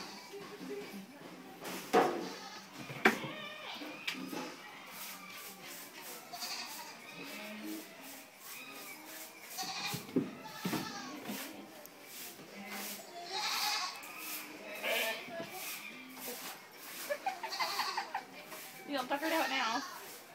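Goats bleat repeatedly over about twenty seconds at Zao Fox Village, some cries close and loud, mixed with people talking nearby in a noisy outdoor setting.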